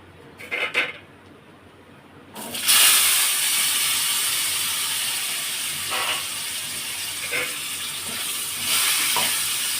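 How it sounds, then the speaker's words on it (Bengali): Cut potatoes go into hot oil left from frying fish. A few clinks come first, then a loud, steady sizzle starts and keeps going, close and without any voices. "এবার এই তেলের মধ্যেই আমি কেটে রাখা আলুগুলো একটু ভেজে নেব"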